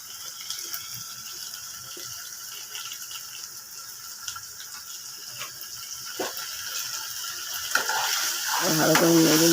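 Dal seasoned with salt and turmeric is stirred and fried in oil, giving a faint, even sizzle with scattered scraping clicks. The sound grows louder and fuller in the last second.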